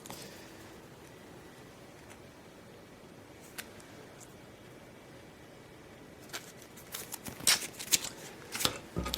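Cards from the Space Hulk Death Angel card game being shuffled by hand, faint rustling at first, then a louder burst of riffling and flicking near the end, with no talking.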